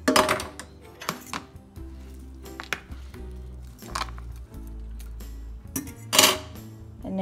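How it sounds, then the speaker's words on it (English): Peas are tipped into a microwave container while a cheesy vegetable pastie is prepared, making close clinks and rattles of hard food against the container, with brief louder clatters between quieter moments. "So I think this is a good time to add my peas into my microwave container now."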